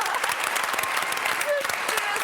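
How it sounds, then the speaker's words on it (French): A TV studio audience at a reality-show finale gala keeps up a short, dense burst of applause, with cheering voices mixed into the steady clapping. "on l'applaudit encore"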